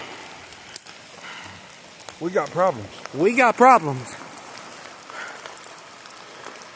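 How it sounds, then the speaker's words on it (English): Heavy rain pours steadily over flooded southern West Virginia, its constant hiss running through the whole scene while someone talks over it. "And there is no end to the rain."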